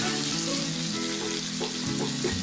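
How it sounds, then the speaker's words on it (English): Shrimp sizzles and crackles steadily in a hot frying pan, a continuous frying hiss with occasional stirring scrapes, no voices. "I still don't have a strong sizzle"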